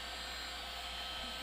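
A heat gun blasting hot air onto foam while the foam is warmed into a tighter coil, a steady loud whooshing drone with a motor hum, continuous and close throughout.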